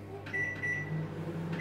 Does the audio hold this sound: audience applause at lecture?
no